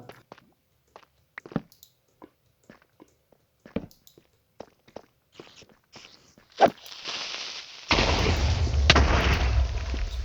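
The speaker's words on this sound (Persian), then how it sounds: "از پشتم کریپر ترکید منو کشت" A Minecraft creeper explodes in a Java survival game, a loud broadband blast near the middle that is followed by a sustained rumbling roar, after a series of quiet scattered footstep-like taps.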